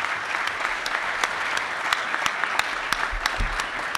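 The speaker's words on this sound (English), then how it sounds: "please give them all a round of applause" A conference audience gives sustained applause for a panel, with dense, even clapping that carries on steadily and has a few sharper individual claps standing out.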